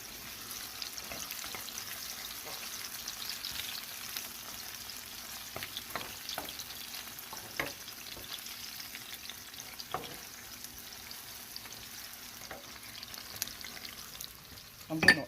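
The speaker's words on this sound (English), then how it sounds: "I'm going to go in with my chopped onions or sliced onions." Chopped onions frying in a pot, a soft steady sizzle broken by scattered scrapes and clinks of stirring, close and fairly quiet with no talking.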